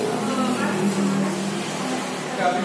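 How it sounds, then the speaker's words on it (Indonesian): A stainless steel meatball dough grinding machine runs in an Indonesian food-processing machinery showroom, a steady motor hum with grinding drone, while people talk nearby. "Nah, giling adonan bakso."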